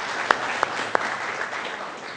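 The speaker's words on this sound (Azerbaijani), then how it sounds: "Nə gözəl, alqışlayırıq" An audience at a televised talk show applauds in a short, steady burst of clapping with a few sharp claps standing out near the start.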